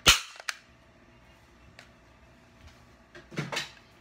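Two sharp, loud cap gun pops, one at the very start and a double crack near the end, with small clicks in between.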